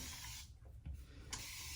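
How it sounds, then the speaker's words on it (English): A mister bottle sprays water generously onto hair and scalp during a loc moisture routine, giving a continuous fine hiss that dips briefly and returns, close and steady with no talk. "So I spray that generously"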